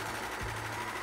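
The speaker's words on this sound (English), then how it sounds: "I knew I would need to overlock all the raw edges before I started sewing" An overlocker hums and chatters in a fast, continuous mechanical run while finishing raw edges of loosely woven fabric, close and steady throughout.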